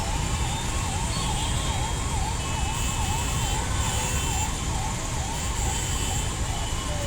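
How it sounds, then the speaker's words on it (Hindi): An ambulance siren wails in a steady rising-and-falling pattern over constant traffic-jam noise on a bridge, continuous and fairly close. "देखिए सायरन की आवाज़ लगातार बज रही है"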